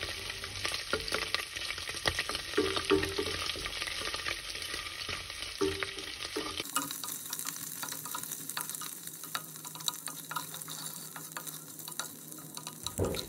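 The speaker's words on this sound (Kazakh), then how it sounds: "Енді майымызды әбден шығарылғанын күтеміз" Lamb tail fat renders in a pan with a constant crackling sizzle, loud and close, with occasional stirring scrapes; the sizzling continues after an abrupt cut partway through.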